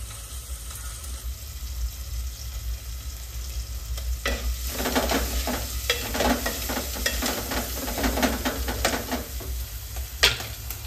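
Onions sizzle steadily in a hot pan, with frequent scraping and clattering stirs starting partway through and continuing to the end. The frying is close and fairly loud, and no one speaks.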